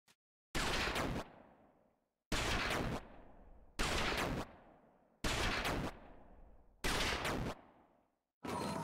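Gunfire in LittleBigPlanet 3 as a character is shot: five loud, sharp bursts, each followed by a fading tail, spaced about 1.5 seconds apart with silence between.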